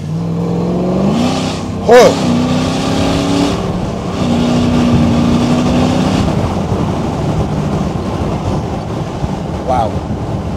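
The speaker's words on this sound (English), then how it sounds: "It's definitely more aggressive with that side exit exhaust." A reimagined Land Rover Defender with a 5.3 litre V8 and side exit exhaust growls as it accelerates around a bend, a loud, steady rumble with a brief exclamation from someone inside.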